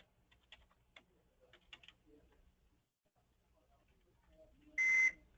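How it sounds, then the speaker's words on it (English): A part number typed on a computer keyboard, a few soft scattered key taps close by, followed by a short loud electronic beep at the end. "if I know the part number, I'll just type it in the same way I would think about it"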